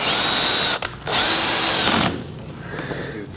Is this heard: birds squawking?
no